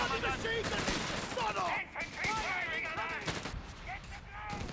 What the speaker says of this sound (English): the machine gun creeps up there